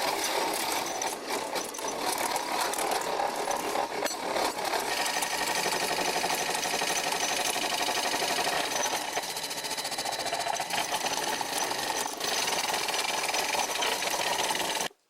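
A round nose scraper works a wooden bowl spinning on a lathe, a steady broadband scraping and whirring hum that continues without pause at close range, with no voices heard.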